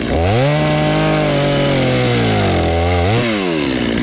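A chainsaw cutting firewood roars loudly and steadily, its pitch sagging under load and then revving back up near the end.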